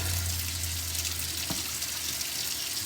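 Tap water running steadily into a kitchen sink while cooking a budget family dinner, a constant hissing splash with a brief clunk partway through.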